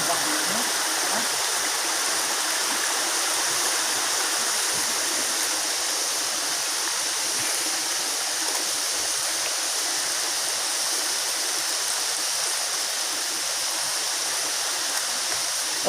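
Strong water pours steadily at Taginis Falls, a constant hissing rush of flowing water that stays even and fairly loud throughout, with occasional faint voices beneath.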